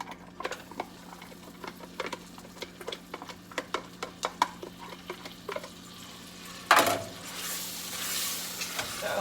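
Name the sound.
butter and cream cheese sizzling in a pan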